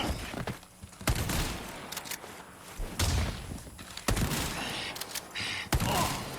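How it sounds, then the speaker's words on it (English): Submachine gun fire in Resident Evil 4's Krauser fight: several bursts of rapid shots at intervals over continuous game ambience, loud and punchy with thuds between. "So I'll swap to the submachine gun rather than reload the shotgun."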